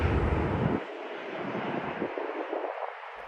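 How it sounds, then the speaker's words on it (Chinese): A Hainan Airlines airliner taxis toward the runway for takeoff at Dalian airport, giving a loud, broad engine roar close by that shifts in tone as it turns, with no talk over it. "现在让大家看一看飞机起飞的过程"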